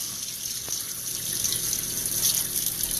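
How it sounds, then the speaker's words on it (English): Hot water from a tap fed by a water heater runs steadily and close, a continuous hissing splash that holds level for the whole stretch without a break. "if I open the hot water,"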